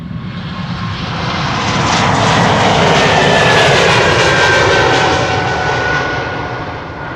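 Heavy jet airliner taking off from a runway at Schiphol Airport, a loud sustained engine roar that swells to a peak and then slowly fades as the aircraft climbs away.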